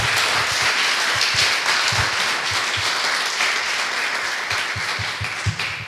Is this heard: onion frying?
no